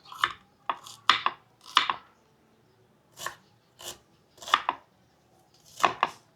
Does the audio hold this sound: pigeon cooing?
no